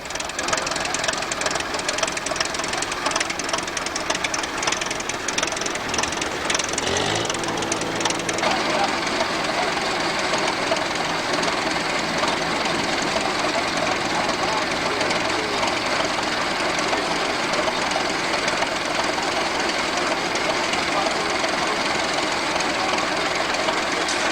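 An International Harvester Farmall M tractor running on LP gas at an antique tractor show chugs loudly and steadily in a dense mechanical clatter. A sharp change near the start leaves a rougher, continuous engine drone that carries on without talk.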